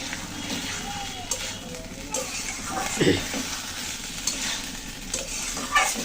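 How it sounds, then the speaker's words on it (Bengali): Banana and spices are stirred and sautéed in a pan for a home-style Bengali curry, with a steady sizzle and scraping stir strokes throughout and a few louder clanks of the spoon. "কলার সাথে মশলাগুলো কিন্তু দারুণ সুন্দর করে কষানো হয়ে গেল"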